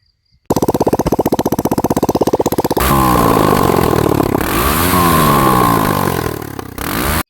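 A Chinese 160cc cross motorcycle fitted with a non-original, makeshift exhaust idles with a rapid pulsing beat, then is revved hard into a loud, rasping, rising and falling roar close to the microphone.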